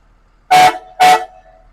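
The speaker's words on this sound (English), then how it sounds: "those horns are so loud because they're true air horns, like a locomotive train has." Two loud blasts of true air horns on a 2008 Ford F-650 Super Duty crew cab dually truck, close by, each about a quarter second long with a short gap between.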